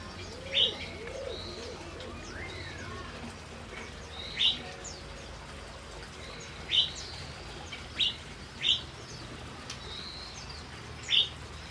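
Birds kept together in a fairly large cage, with magpie robins mentioned, give sharp chirps about six times over steady background noise, alongside soft dove-like cooing and a faint flutter of wings.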